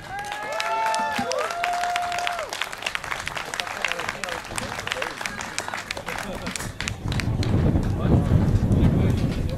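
Festival crowd at the Mécluves Terre de Blues international blues festival applauding a blues band, a dense wash of clapping that runs steadily throughout and swells louder near the end, with tonal sweeps mixed in at the start.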